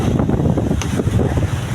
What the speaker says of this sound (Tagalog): Lakas pati ang hangin po.